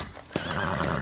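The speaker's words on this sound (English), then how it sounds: "They're thoroughbred race horses. They're extra fast and extra nervous." A cartoon thoroughbred racehorse gives a single sharp whinny followed by a quavering neigh, with a brief clatter of hooves, close and clear.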